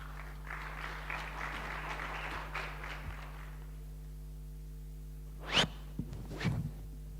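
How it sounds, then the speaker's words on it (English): Audience applause at a displacement forum as speakers leave the stage, moderate clapping that stops after a few seconds, followed by a couple of isolated sharp bumps over a steady low electrical hum. "Let's give them a round of applause as they walk off stage."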